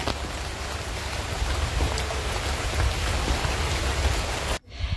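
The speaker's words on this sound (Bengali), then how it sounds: "গাছের পাতার জন্য আরো কি সুন্দর টুকটুক শব্দ হচ্ছে।" Rain patters on tree leaves in a steady, dense hiss of small drops nearby, cutting off abruptly at the very end.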